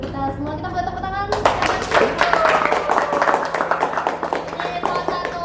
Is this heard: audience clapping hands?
yes